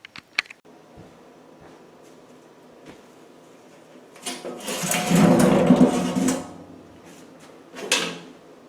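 A warming shelf is lifted off a cookstove, with a burst of metallic scraping and clattering in the middle and a shorter knock near the end, close by against a quiet room.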